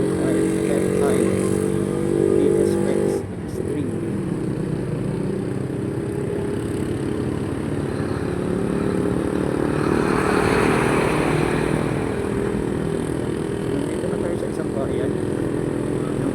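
A Honda XRM 125 FI motorcycle engine drones steadily while riding after rain, a constant low rumble with wind noise, and a voice speaks over it at times.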